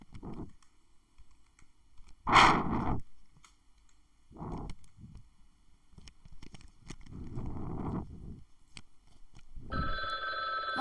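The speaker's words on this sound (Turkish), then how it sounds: "Telefon çalıyor aga süre bitiyor." A telephone ring used as the round timer in the online drawing game Gartic Phone sounds near the end as a bright, buzzing ring, after a scatter of short clicks and soft noisy bursts with quiet gaps between them.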